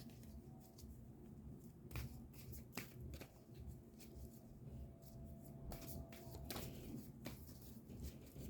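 Tarot cards being shuffled close up, a soft continuous riffling and flicking with crisp taps and snaps as a card is pulled from the deck, quiet and alone without talk.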